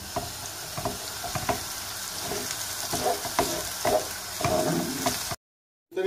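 Rice with chickpeas and chicken roasting in hot oil in a pan, a steady close sizzle broken by scraping stir strokes, ending in a brief silence.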